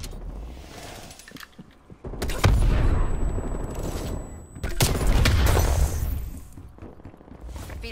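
Gunfire and heavy explosive booms from the War Machine grenade launcher in the online multiplayer shooter Call of Duty Black Ops Cold War, two loud blasts and rattling shots close up over constant battle noise.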